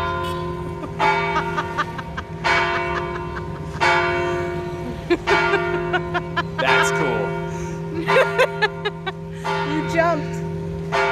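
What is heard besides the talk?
church bells ringing at Baclayon church, Bohol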